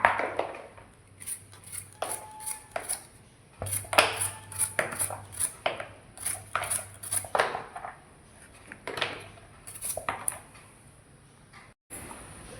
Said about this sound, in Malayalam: ഈ പാവയ്ക്ക ഇങ്ങനെ വട്ടത്തിൽ കനം കുറച്ച് വട്ടത്തിൽ അരിഞ്ഞെടുക്കുക.